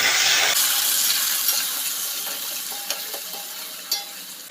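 Prawns sizzle in hot ghee in a pan, a loud hiss that fades gradually, with a few small clicks and taps of a utensil and no voices.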